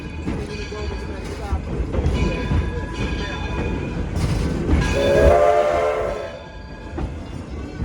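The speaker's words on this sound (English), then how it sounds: "When the train comes across the way, we step back and wait for the train to go." A 4-4-0 steam locomotive rumbles past a crossing with steady mechanical noise and a rising whistle-like tone, while people talk nearby.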